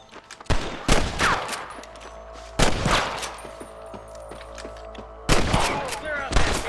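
Bursts of gunfire in the western video game Red Dead Redemption 2: loud volleys of several close shots at irregular intervals, with sharp cracks and echoing tails over a low background hum, and voices heard between the shots.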